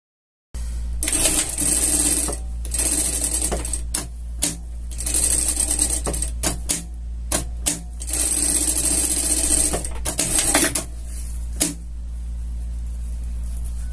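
Sewing machine stitching a seam on the lapels of a scout costume, running in several loud bursts of rapid whirring stitches separated by short pauses and clicks, with no talking.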